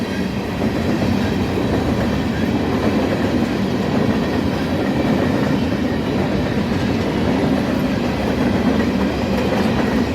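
Long freight train with a distributed power unit locomotive rolling steadily past up close, a loud continuous rumble with rhythmic clickety-clack of wheels over rail joints throughout.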